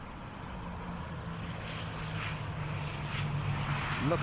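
An ATR 72-600 turboprop airliner arriving from Glasgow lands at Dublin Airport, a steady propeller and engine drone heard at a distance that swells slightly as it comes down, with no voices.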